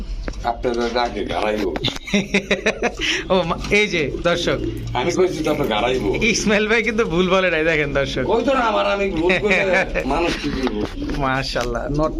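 Pigeons cooing, including a pair of black Shokin pigeons at a market, soft throaty calls heard beneath continuous close loud male speech.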